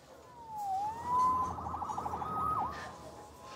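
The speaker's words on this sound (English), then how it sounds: "Saved by the siren." A police siren wails in a city street scene in the Spider-Man Remastered game, its pitch sweeping up and down in a rising and falling cycle at moderate distance, with a quick warbling stretch in the middle and no talking.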